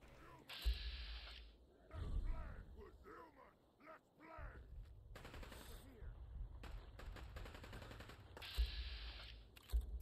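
Laser weapon fire in the Fallout 4 video game: repeated bursts of rapid zapping shots, some sharp and loud, with distant combat noise, and people talking over it throughout.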